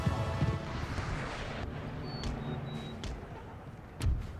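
Cannon fire from a Napoleon Total War battlefield, several deep booms and crashes scattered across the stretch with a heavy thump near the end, over a rumbling battle din and occasional thin whistling tones.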